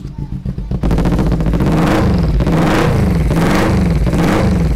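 A 250 Ninja motorcycle engine idles and revs close by, a loud steady throbbing roar that swells in repeated waves after a brief quieter start, with a voice faintly under it.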